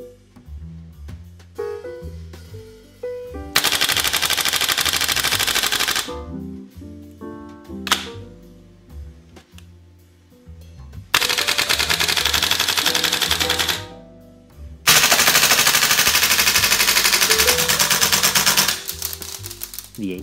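A Tokyo Marui M4 MWS or VFC HK416A5 gas blowback airsoft rifle fires full auto in several long, loud rapid bursts that empty the magazine and stop sharply when the bolt locks, with quiet mechanical clicks between strings.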